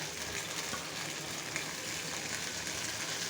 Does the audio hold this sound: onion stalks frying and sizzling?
yes